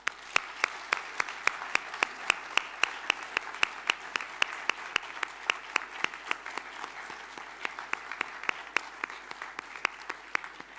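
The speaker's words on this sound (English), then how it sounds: "So please, a big round of applause to all of them." Audience at a science expo ceremony applauds steadily for about ten seconds, a dense wash of many hands with sharp individual claps popping out near and bright throughout, no talking over it.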